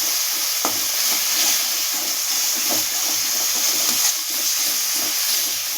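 Spices and turmeric being stirred in a frying pan for a pomfret curry: a loud, dense, continuous hiss of hot oil, close by, with soft regular scrapes of stirring underneath and no speech.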